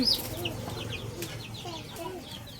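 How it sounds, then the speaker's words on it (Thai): Chickens clucking nearby in a rural Thai home setting, a scatter of short repeated clucks and chirps over a low background murmur, fairly faint and continuous through the stretch, with no clear speech. "โอ้ยไก่"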